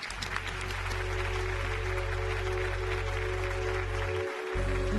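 Applause for a band on a Marathi singing-contest TV stage, a dense, steady wash of clapping under a continuous low hum and music tones throughout.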